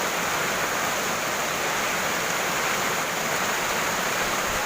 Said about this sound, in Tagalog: kusog na kayo ang kanang baha